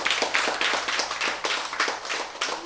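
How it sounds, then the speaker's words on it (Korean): Applause from a church congregation during a Korean sermon, a dense patter of hand claps at a moderate distance that holds steady throughout without speech. "박수."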